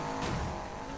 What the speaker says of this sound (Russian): Мотор, боксер.